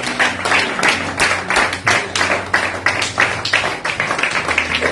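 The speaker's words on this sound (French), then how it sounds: "Le prophète Léonel applaudissez fort." Church congregation clapping loudly during a service: dense, fast, roughly rhythmic hand claps fill the whole stretch over a steady low sustained tone, close and strong throughout.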